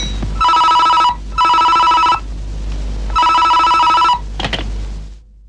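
An old telephone bell in a Telugu feature film rings loudly in repeated trilling bursts, four rings with short pauses between them, close and clear with no talk over it.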